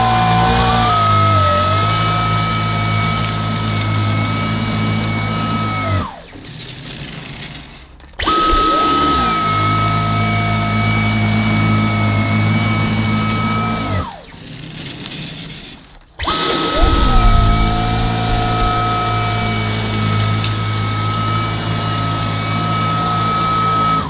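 A Dyson V11 Outsize cordless vacuum runs on carpet on its automatic suction setting, a loud high-pitched motor whine with shifting tones that cuts out twice to brief near-silence before spinning back up.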